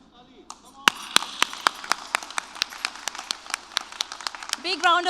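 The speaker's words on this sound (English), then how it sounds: "Big round of applause for all of them." Audience at a student orientation awards ceremony clapping for the awardees, a run of sharp, fairly close individual claps at a steady pace rather than a dense roar, with voices murmuring underneath and brief talk at the end.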